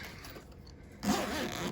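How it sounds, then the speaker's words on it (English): A heavy-duty zipper on a Scentlok OZ Chamber storage bag is pulled open in one quick, close rasping stroke after a moment of near quiet. "Zippers,"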